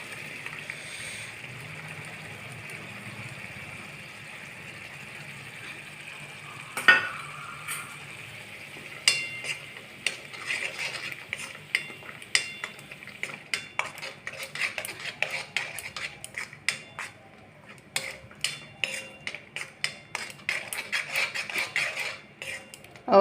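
Tomatoes go into a cashew masala gravy cooking in a pan, and a metal spoon stirs and scrapes against the pan in repeated clinks and taps that grow busier toward the end, close and fairly quiet.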